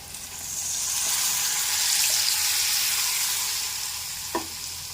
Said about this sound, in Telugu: ఆ విధంగా నీళ్ళు పోసాను